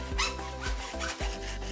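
A metal file rasps back and forth across the freshly sawn end of a roller shutter guide rail, several steady rough strokes in a continuous rhythm, close and fairly loud.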